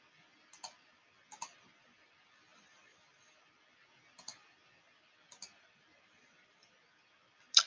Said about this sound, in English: I'm sorry, I'm just clicking things now.